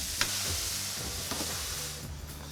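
Spinach and thinly sliced vegetables sautéing in a pot with garlic, a steady close sizzle with a few soft stirring clicks and scrapes throughout.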